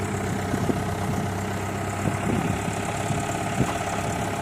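A borehole well drilling rig's engine runs steadily at a low, rumbling idle with faint knocking, close and continuous, at a water well site in Puai Noi district, Khon Kaen, Thailand.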